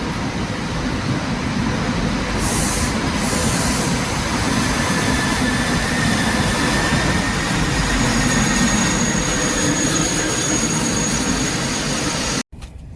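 A train pulls into a station in France, heading for Paris Gare de Lyon, with a steady loud rumble of rolling wagons and faint wheel squeal that carries on unbroken for several seconds before cutting off.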